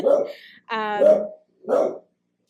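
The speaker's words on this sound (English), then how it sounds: "He's stopped barking for now." A dog barks three times close by, loud sharp barks with a yelping, whiny edge, separated by brief silences.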